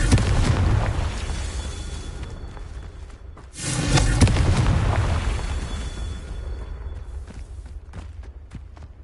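A fire spell detonates in Hogwarts Legacy: a sudden heavy boom erupts partway through, then a long rumbling roar that slowly fades beneath ongoing game ambience and footsteps.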